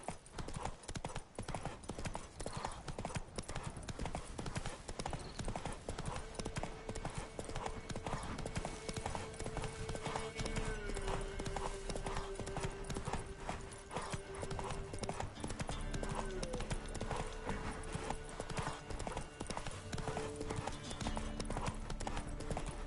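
Roach, a horse in The Witcher 3, gallops with steady, rhythmic hoof clip-clop that stays loud and continuous throughout, layered with game music and ambient sound.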